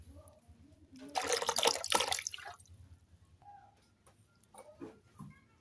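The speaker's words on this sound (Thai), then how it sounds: "เราเทน้ำเปล่าลงไปนะครับ เราจะใช้น้ำเปล่าครึ่งขวดนะครับ" Plain water from half a large bottle is poured into a container, giving a close, gurgling splash for about two seconds, followed by faint drips and small knocks; no one talks.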